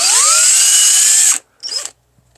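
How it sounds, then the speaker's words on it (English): An 18-volt cordless drill whines loudly at full speed for over a second while pre-drilling, winds down, then gives a brief second burst before stopping. "Put a little pre-drill on it."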